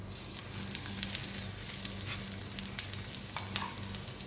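Date-filled puran poli cooking in ghee on a hot griddle gives a steady soft sizzle with scattered crackles and pops, fairly quiet and close, with no talking.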